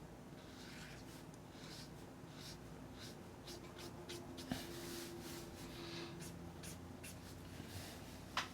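Ink pen scratching on paper while sketching a caricature: quiet, repeated short strokes in an irregular rhythm, close up and soft, with faint background hum.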